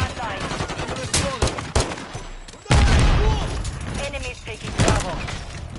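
Rapid gunfire crackles in bursts of sharp, irregular shots over several seconds, with a heavy blast near the middle, mixed with raised voices talking over the shooting.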